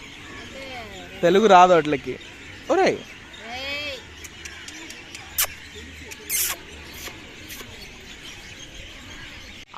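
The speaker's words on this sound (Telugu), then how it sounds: "ఆ పిచ్చుకలు అరుపు చూసారా" Sparrows chirp in an evening setting in Velankanni, a few bright, quick calls and short chattering bursts scattered near and far, with people talking in between.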